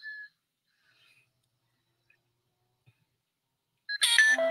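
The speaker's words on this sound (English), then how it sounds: "That's my phone." A phone sounds a short electronic tone at the start, then after near silence bursts into a louder ringtone or notification melody near the end, close by.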